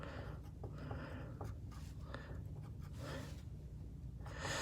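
Pen scratching steadily across paper while noting physics calculation results, a continuous soft writing texture throughout with no voices.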